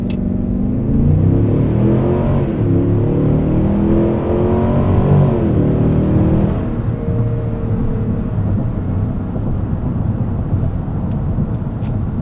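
A 2025 Cadillac Escalade Platinum in 4-wheel-drive auto accelerates hard from 0 to 60 on a night road, its engine rumbling loud and steady with rising, sweeping gear tones that shift partway through, heard from inside the cabin.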